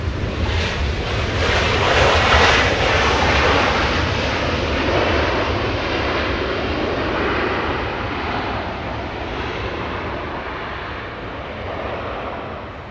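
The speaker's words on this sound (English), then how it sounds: "An A321, this one 3 years of age, taxiing eastbound on Echo" A three-year-old Delta Airbus A321, arriving from Detroit, taxis eastbound at Los Angeles International Airport, a broad loud jet roar that swells early and then slowly fades, with some wind buffeting on the microphone.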